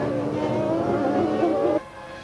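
1998 Formula 1 cars, McLaren Mercedes and Ferrari, race past with a high, strained engine wail that shifts in pitch, then drops off abruptly toward the end.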